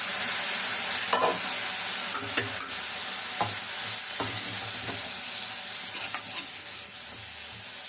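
Cabbage stir-frying in a pan gives a steady bright sizzle, broken by repeated scraping and stirring strokes of a spatula at close range, with no talk.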